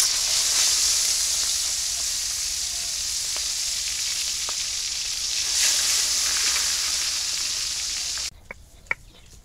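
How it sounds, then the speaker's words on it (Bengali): Coral fish gills fry in hot oil with a bright, steady sizzle close up, which cuts off abruptly near the end, leaving a couple of faint clinks. "এখন আমি আগে এই ফুলকোগুলো ভেজে নেই।"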